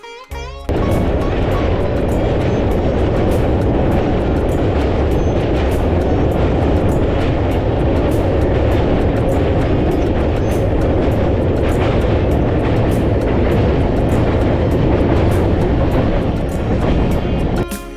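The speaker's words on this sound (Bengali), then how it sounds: "কাঞ্চনজঙ্ঘা এক্সপ্রেস ব্যান্ডেল জংশনে ঢুকিয়ে দিয়েছে" Kanchenjunga Express passenger train running near Bandel Junction on the Howrah line, a loud continuous close rumble and rattle of wheels and carriages, steady throughout with no talking.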